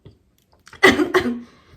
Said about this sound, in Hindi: खांसी हो गया मुझे